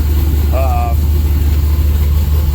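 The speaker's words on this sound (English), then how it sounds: "so I got the truck running. It's still kind of loud" A 1966 Chevy pickup truck engine idles with a deep, steady low rumble, fairly loud and close, while a brief voice cuts in near the start.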